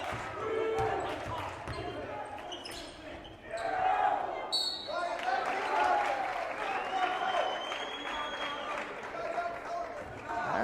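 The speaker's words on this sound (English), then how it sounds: "Crowd coming alive." A crowd at a boys varsity basketball game against the Assabet Valley Aztecs cheers and swells, mixed with ball bounces and squeaking sneakers under a commentator's voice.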